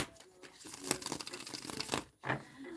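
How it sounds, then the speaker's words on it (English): Tarot cards are shuffled by hand in quick riffling bursts, a crisp papery rustle that swells and pauses, close and fairly quiet. "I'm going to shuffle one more time."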